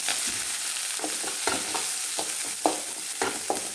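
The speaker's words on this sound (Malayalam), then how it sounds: "ഇനി നമുക്ക് വഴറ്റാനായിട്ട് ആവശ്യമായ വേണ്ടത് വറ്റൽമുളകുണ്ട്, കറിവേപ്പില, ഇഞ്ചി, പച്ചമുളക്," Dried chillies, curry leaves, ginger, green chilli and chopped onion sauté in a pan, giving a steady close sizzle broken by repeated scraping stirs from a spoon.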